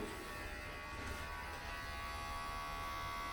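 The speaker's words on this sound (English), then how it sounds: "Let me know if I shave the back of my scalp." Electric clippers shaving hair at the back of the head, giving off a steady, close buzz that holds on without a break over low room noise.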